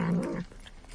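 Brief growly mew from a cute cat-like creature in Crisis Core: Final Fantasy 7 Reunion, close and clear for under half a second before fading to near silence.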